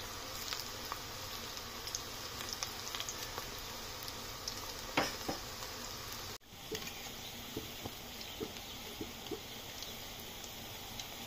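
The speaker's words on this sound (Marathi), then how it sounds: "गॅस पहिले तापून घेतलाय हाय फ्लेमवर आणि भजी सोडल्यानंतर मीडियमवर ठेवलं" Moringa bhaji fritters frying in hot oil over a medium flame, a steady quiet sizzle with scattered small pops and crackles throughout, one brief dip midway.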